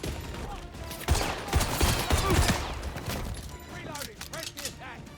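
Gunfire in the 007 First Light video game crackles in dense bursts amid battle noise, and voices call out over the shooting.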